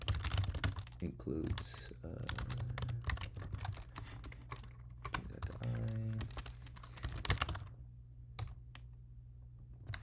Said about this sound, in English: my apologies if I'm typing kind of weird